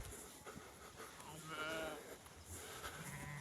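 Lambs bleat in a field among grazing sheep, a faint, distant wavering cry rising briefly over a soft outdoor hiss, with quiet low talk underneath.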